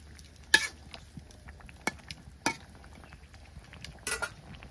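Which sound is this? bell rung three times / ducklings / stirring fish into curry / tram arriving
stirring fish into curry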